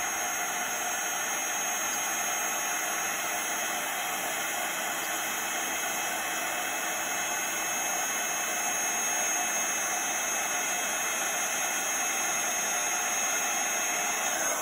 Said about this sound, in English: You want to hold the heat gun still.